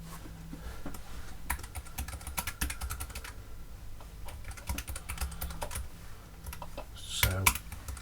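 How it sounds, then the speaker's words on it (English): Steady tip-tap typing on a computer keyboard, fairly close and continuous over several seconds, with a brief louder burst near the end. "So this is great entertainment of me just tip-tap typing."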